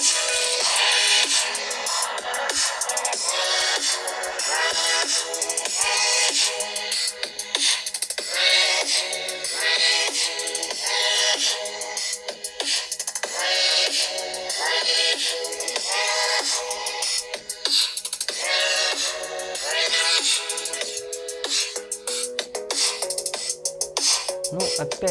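Music plays loudly from the speakers of a Nubia Red Magic 7S Pro gaming smartphone: a dense, bright track with a steady driving beat that continues without a break throughout.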